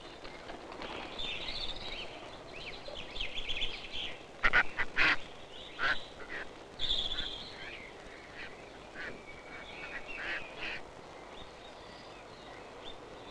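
Ducks quack in St James's Park, London, in spring: scattered calls and a few louder bursts of quacking over a steady outdoor murmur, moderately close, with no talking.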